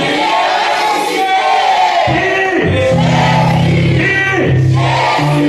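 A church congregation cheers and acclaims God, a loud crowd roaring and whooping together in sustained, rising shouts with overlapping voices throughout.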